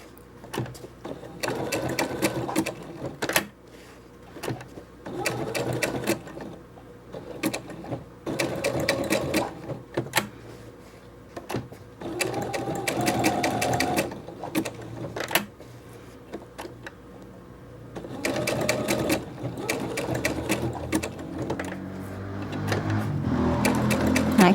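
A sewing machine stitching an appliqué heart patch: steady bursts of rapid mechanical stitching, close and clear, broken by short pauses as the piece is turned.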